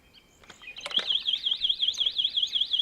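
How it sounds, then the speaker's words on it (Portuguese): An electric scooter's anti-theft alarm, on an FLJ 2400W scooter, warbles in a high, fast repeating electronic wail, loud and close, after a few clicks and rattles at the start as the scooter is moved. "eu agora vou mexer a trotinete para que possam verificar o alarme"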